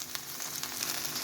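Chopped onion fries in hot oil in a pan, giving a close, steady crackling sizzle with tiny pops throughout a short burst and no speech.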